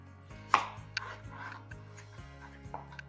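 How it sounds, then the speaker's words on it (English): A knife cuts potatoes on a cutting board with a few crisp, separate chops and thuds close by, over a low background hum. "I'm going to cut it in half lengthwise again on each one of them"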